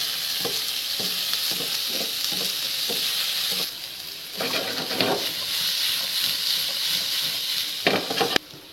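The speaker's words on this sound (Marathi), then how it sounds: "एक मोठ्या आकाराचा टोमॅटो एकदम बारीक असा चॉप केलेला, त्याला देखील जवळपास 1 मिनिट मोठ्या आचेवर फ्राय करून घ्यायचं आहे." A large, finely chopped tomato frying on high heat for mushroom dish, a constant crackling sizzle punctuated by rhythmic spatula scrapes and stirring knocks, dipping briefly before a burst of louder stirring.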